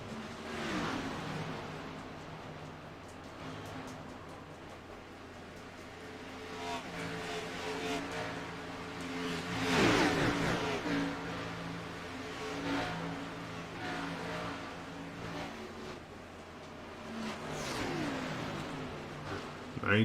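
Race cars in an oval stock car event roaring down the back straightaway, a continuous engine drone with swelling passes around the midpoint and near the end, under a commentator's voice.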